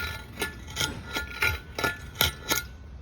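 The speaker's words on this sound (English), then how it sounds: "So I'm just deburring these edges," Metal edges are deburred by hand in a car-build workshop, with about seven evenly spaced rasping strokes, each a short close scrape separated by brief pauses.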